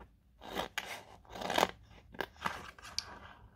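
Scissors snip through material while cutting pieces for a handmade compartment box, giving several close, crisp cuts in uneven rhythm, with short quiet gaps between them and no talking.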